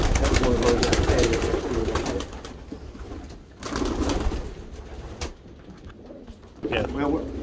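Pigeons coo in a barn loft, their soft, murmuring calls steady through most of the stretch, with brief quieter gaps and someone speaking over them at times.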